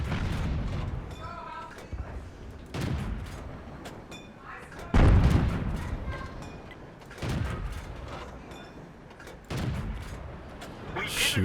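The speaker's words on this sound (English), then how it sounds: "And the artillery's firing at me." Booming artillery shots and impacts land in a World of Tanks tank battle, heavy thuds recurring every couple of seconds with one especially loud blast near the middle, mixed with game sound effects and someone talking over them.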